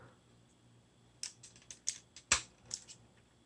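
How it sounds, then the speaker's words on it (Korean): A hinge on a Transformers: The Last Knight Calibur Optimus Prime toy ratchets, giving a quick cluster of sharp, close plastic clicks in the second half, with one louder snap among them. "이거를 뒤로 한 클릭 가동시켜줍니다."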